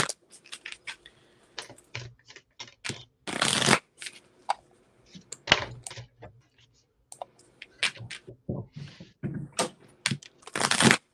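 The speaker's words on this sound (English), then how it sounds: "I want to shuffle from my love deck for you really quick" A love oracle card deck is shuffled by hand close up, giving crisp riffling bursts and quick papery flicks and taps in irregular clusters, heard alone with no talking.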